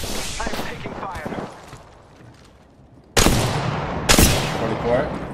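Gunfire in the video game Apex Legends, bursts of rapid shots early, then a quieter gap before two loud, sharp volleys hit close up near the end, with a voice speaking over the action.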